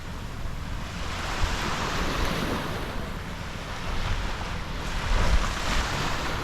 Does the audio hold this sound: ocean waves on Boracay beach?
yes